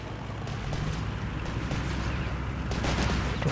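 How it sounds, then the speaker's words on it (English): An artillery barrage lands in Company of Heroes 3, with muffled, distant impacts and scattered gunfire rumbling in a continuous, moderately quiet battle din. "Dropped down some artillery"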